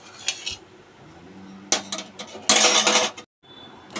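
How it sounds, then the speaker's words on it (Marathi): A spoon clinks and scrapes against a pot while stirring sugar and water into syrup for gulab jamun, with irregular metallic knocks and a brief busier burst of clattering, close and loud, then quiet between. "आता इथे 1 वाटी आपण साखर घालून घ्यायची आणि हळूहळू ढवळून आपण हे मिश्रण तयार करायचं आहे"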